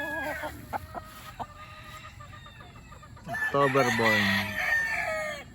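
Young October-born roosters give wavering, cracking crows and clucks nearby, one crow rising over the others toward the end, with a person speaking briefly.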